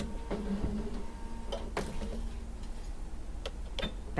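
A steady mechanical whir with small rhythmic ticks comes from a sewing machine stitching a quarter-inch seam on a star quilt, close and continuous without pause.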